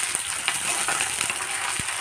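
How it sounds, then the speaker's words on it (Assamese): Steady, close sizzling and crackling of a large chopped onion frying with ginger-garlic paste in a hot pan, with occasional faint clinks, and no voices. "ডাঙৰ চাইজৰ এটা পিঁয়াজ কাটি লৈ এয়া মই এতিয়া ভাজি আছোঁ"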